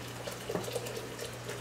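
Ginger ale is poured into a bowl of punch as a faint, steady liquid trickle and gurgle under a low electrical hum, with no talk.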